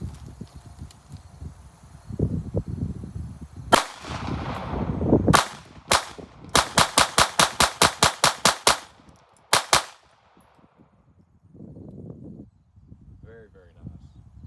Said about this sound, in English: first rounds downrange